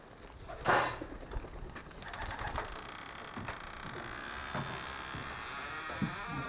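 Pigeons cooing in a pigeon loft: soft, low coos repeat against a faint, steady background hum, broken by a brief louder rustle near the start.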